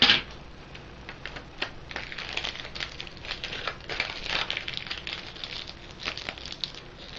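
Gift wrapping paper being handled and taped, with soft crinkling and rustling of the paper and small clicks and taps, close and fairly quiet, with no talk.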